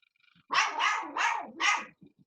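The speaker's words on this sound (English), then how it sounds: "The dog's barking." A dog barks four times in quick succession, loud and fairly close, with brief quiet before and after.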